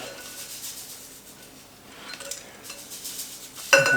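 Batter for a charlotte apple pie being mixed in a bowl, a soft steady swishing and scraping close by, ending in a sharp clink of utensil against the bowl.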